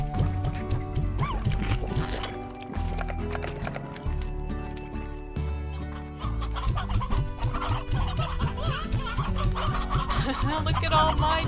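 Chickens cluck repeatedly in the Slime Rancher video game, with busy overlapping clucks layered over cheerful background game music.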